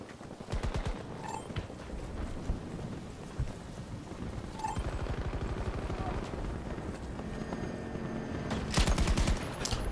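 Rapid bursts of Battlefield 2042 gunfire crackle and rattle in clusters as shots hit a fence, over a steady noisy background, with a voice talking faintly underneath.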